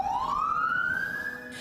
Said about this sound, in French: Gyrophare et sirène sur le toit